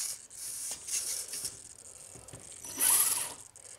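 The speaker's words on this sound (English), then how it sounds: "Just want to show you guys the steering works." An RC car's steering servo turns the wheels with a buzzy whir and ratcheting, near and fairly quiet. A louder, brighter whine swells near the end.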